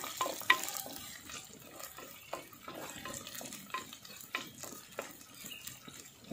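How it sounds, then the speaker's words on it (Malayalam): Curry leaves frying in a pan for a star fruit pickle, a soft sizzle broken by repeated scraping and clinking strokes as they are stirred, close and moderately quiet. "ഇനി കറിവേപ്പില ജസ്റ്റ് ഒന്ന് ഇളക്കി കൊടുക്കാം"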